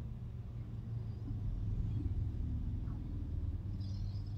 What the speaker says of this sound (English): some people are either revving their motors really loud or have, like, no catalytic converters anymore